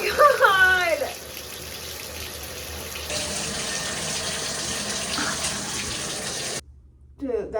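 Shower water runs in an apartment bathroom as a steady broadband spray, with a voice reacting loudly at the start; the flow cuts off abruptly near the end, leaving a brief faint sound.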